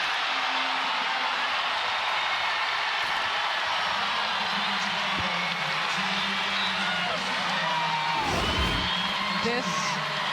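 A large arena crowd at a Louisville vs TCU NCAA women's basketball second-round game roars and cheers continuously after an and-one play, a dense wash of whoops and yells with a commentator's voice over it.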